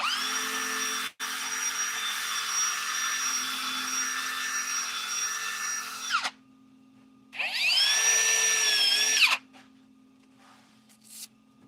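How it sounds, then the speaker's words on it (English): Power sanding of a wood-turned piece, moving from 120 up to 320 grit, produces a high, steady motorized whine. A six-second run stops, then a shorter second burst of about two seconds follows, with quiet between. "let's sand this up, and then we'll see about a design"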